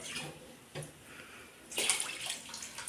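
Water sloshes and splashes as rice is rinsed for pongal, with a brief, quiet swirl that grows louder and busier in the second half, with no voices.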